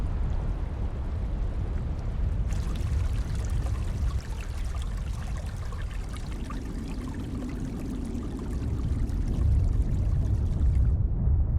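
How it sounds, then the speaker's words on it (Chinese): Water gushing out of cracks in the wall of a volcanic caldera, a continuous rushing pour that grows heavier and deeper toward the end, no voices. "水从裂缝中涌出"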